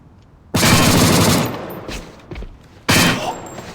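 Loud, close automatic fire from a SCAR-L F.Serpent rifle in the game A.V.A comes as a roughly one-second burst, a pause with faint clatter, then a second sharp burst.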